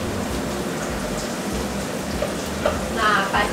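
Peanuts frying in hot oil in a pan while cooking gado-gado, giving a steady dense sizzle that runs throughout with a few louder crackles near the end, no talking.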